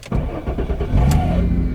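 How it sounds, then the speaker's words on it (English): A car engine cranks and starts up close by, its worn starter bearing letting out a brief high scream as it engages the flywheel, then the engine settles into a rough running rumble. "there's a bearing in there and the bearing is shot. You could hear it just scream when it goes to engage the flywheel."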